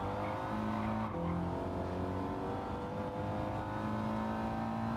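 An Audi TT Gr.4 race car engine in Gran Turismo 7 drones loud and continuous, holding a steady high-revving tone with slight pitch shifts as it pulls through a chicane, with faint tire noise underneath.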